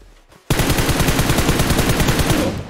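M416 assault rifle firing in PUBG Mobile: a sudden, loud, sustained full-auto burst of rapid evenly spaced shots after a quiet moment, close and continuous to the end.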